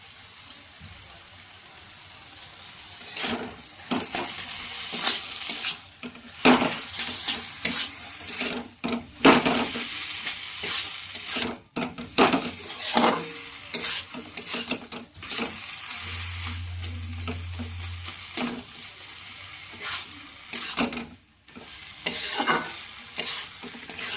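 Potato and banana flower stir-fried with spices in a pan, a steady sizzle with repeated scraping stirs of a spatula running throughout, close and fairly loud, with no talking.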